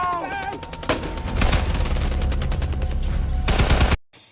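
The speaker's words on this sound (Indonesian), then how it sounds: "tiba-tiba datang musuh yang menembaki mereka" Sustained automatic gunfire from a war film about Vietnamese civilians fighting American soldiers, a loud dense burst of rapid shots that cuts off abruptly, with a brief tonal sound at the start.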